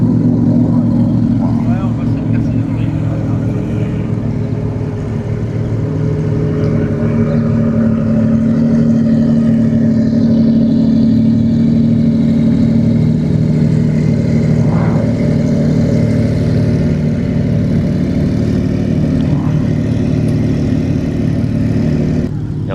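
Cars of an exceptional convoy heading to a car and coffee meet in Saint-Cloud start off slowly, with a steady close engine rumble and idling that builds gently as they pull away, while people talk over it.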